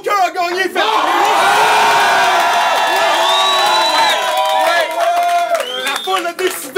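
A battle rap crowd erupts into a thunderous roar of cheers, yells and whoops for a rapper, with a short shout just before the sustained, loud swell that lingers with scattered hollers.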